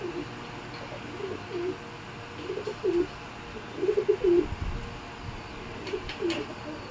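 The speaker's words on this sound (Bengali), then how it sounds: "পায়রাটা এত সুন্দর পায়রা" Pigeons coo softly at a moderate distance in short repeated bursts of low throaty calls, clustered in the middle of the span over a quiet background hum.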